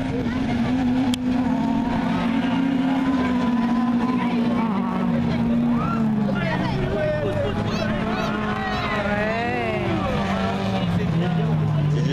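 An autocross race car engine roars and drones past at an outdoor dirt track event, its pitch sliding downward as it moves away, with a commentator speaking French over the continuous engine noise.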